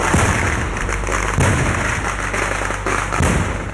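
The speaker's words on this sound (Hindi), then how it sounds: "बीती रात यहां जमकर आतिशबाजी हो रही थी" Fireworks at the Puttingal temple festival in Kollam, Kerala: a loud, continuous barrage of booming blasts and crackling bursts with several sharper detonations, filling the whole stretch without pause.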